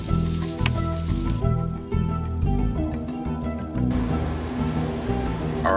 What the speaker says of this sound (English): the bacon grease just gets everything flared up